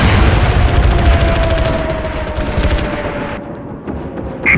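Dense gunfire and booming incoming artillery shells in the PS3 online shooter MAG, a loud, continuous barrage of rapid shots and blasts close by, easing slightly toward the end.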